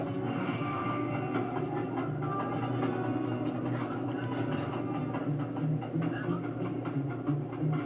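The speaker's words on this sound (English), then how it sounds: "Going on the side of a train that's moving, though." Moving train in the video game Sly 2, a steady low rumble and rhythmic rolling clatter running continuously, with game sounds layered over it and talk faint in the mix.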